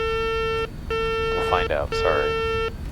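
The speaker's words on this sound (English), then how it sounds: "Is it gonna beep at me the whole time?" Repeating cockpit warning beep in a BAE 146 jet flight simulator during takeoff, a steady loud tone sounding in long on-off pulses while someone talks over it.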